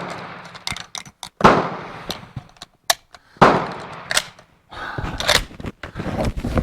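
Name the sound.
gunshot from a K31 Swiss straight-pull rifle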